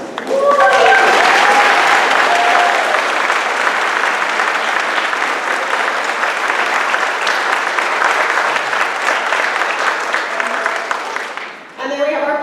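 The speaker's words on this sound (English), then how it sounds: "can you please stand so that we can give you a nice round of applause?" A large audience gives volunteers a long, loud round of applause, with steady crowd clapping and some voices mixed in, fading out just before the end.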